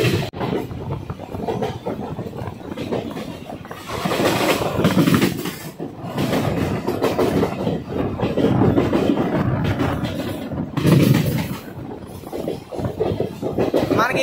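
Train rumbling along near a junction outside Visakhapatnam on the way toward Simhachalam, a steady loud rolling drone with swelling surges and faint clatter, heard from on board with no talk.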